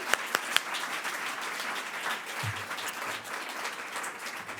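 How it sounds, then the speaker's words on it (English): A crowd at a speech on the Consumer Financial Protection Bureau claps steadily in sustained applause throughout, with a few sharp louder claps near the start and no speech over it. "Can we just applaud one more time?"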